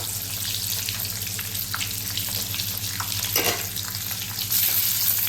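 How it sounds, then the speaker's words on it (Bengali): Eggs frying in a pan over medium gas heat, a steady close sizzle with crackling pops and occasional stirring or scraping, no voices. "এগুলো ভালোভাবে একটু ফ্রাই করে নেবো।"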